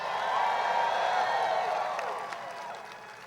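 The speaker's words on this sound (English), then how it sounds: "Give them all a big round of applause." Crowd at a political rally in Greensboro, North Carolina applauds after candidates are thanked, a broad wash of clapping and distant cheers that swells, then gradually fades.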